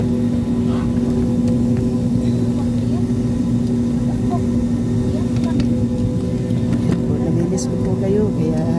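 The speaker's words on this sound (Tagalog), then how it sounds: "Ayan, ang malalaki kong aeroplano." Steady aircraft engine drone at Manila's domestic airport, a constant loud hum with a high whine throughout, while a voice speaks over it.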